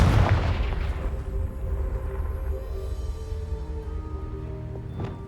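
Confringo blasting spell in a Hogwarts video game: a sharp booming explosion at the start that fades into a long low rumble, with a smaller crack near the end.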